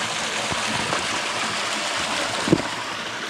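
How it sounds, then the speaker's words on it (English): A waterfall along a trail in the Chiricahua Wilderness, a steady, close rushing roar of falling water with one brief knock partway through. "I'm gonna stop by this beautiful waterfall."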